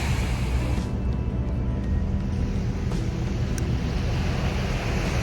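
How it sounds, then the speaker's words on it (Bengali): Ocean waves wash onto the shore at Catalina Island in a steady, dense roar, with wind buffeting the microphone throughout and no talking. "সমুদ্রের আওয়াজ আসছে"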